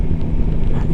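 Steady wind buffeting roars on the microphone of a rider aboard a 2021 Yamaha Tracer 9 GT motorcycle, a dense continuous low rumble with no talk.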